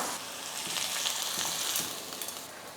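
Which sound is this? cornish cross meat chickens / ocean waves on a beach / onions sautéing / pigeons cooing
onions sautéing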